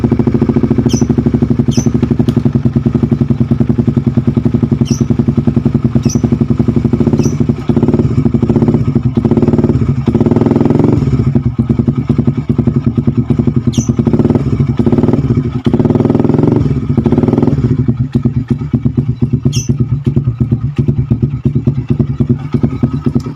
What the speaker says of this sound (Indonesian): yang penting buat ini starter biar pastikan kalau dinamo starternya masih bagus ya lur.